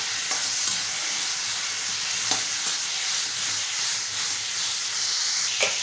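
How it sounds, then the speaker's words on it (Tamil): Sesame seeds, poppy seeds, cinnamon, cloves and cashews sautéing in a kadai: a steady close hiss of frying, broken by a few soft spoon scrapes and taps, with no talking. "இப்போ இது எல்லாத்தையும் சேர்த்துட்டு வதக்கிக்கலாம்"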